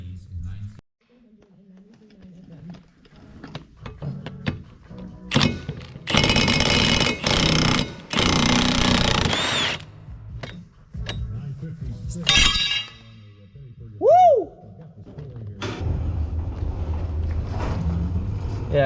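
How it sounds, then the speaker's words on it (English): A forklift lifts a farm planter in a shop, with loud metallic clangs and bangs, bursts of broadband machine noise, a short squeal and steady engine rumble throughout. "This thing needs jacked up higher, so I'm gonna just lift it up with the forklift."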